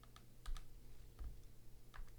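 Faint, sparse keystrokes on a computer keyboard during a digital painting session, a few light clicks spaced irregularly over a quiet background.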